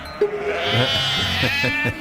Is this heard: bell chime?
no